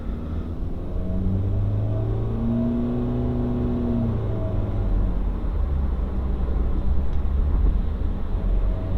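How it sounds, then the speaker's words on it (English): A Honda HR-V accelerates onto a highway, with its CVT whirring as a steady drone that rises in pitch over the first few seconds. Road rumble runs underneath at a constant level from inside the cabin, with no one talking. "You can hear that CVT whirring away under the hood there"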